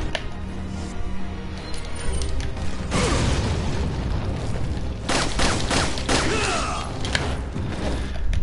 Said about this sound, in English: now we have to use the grenades on him